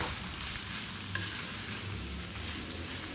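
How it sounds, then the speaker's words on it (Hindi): Minced mutton or beef keema fries in a karahai, crackling and sizzling steadily up close with a constant hiss and faint stirring scrapes, no voices over it. "कीमे को हमें हल्का सा पकाना है, फ्राई करना है एक तरह से कीमे को भी"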